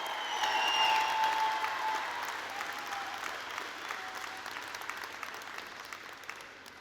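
Graduation audience applauding the instrumental music majors, a dense wash of clapping and cheers that swells early then slowly fades.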